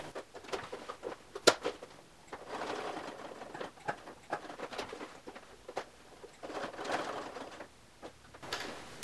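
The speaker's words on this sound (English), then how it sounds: "it's easier to just backstitch where you want this to be" A sewing machine backstitching clear vinyl for a tote bag: short, irregular bursts of close mechanical patter, with tapping clicks and pauses between the stitching runs.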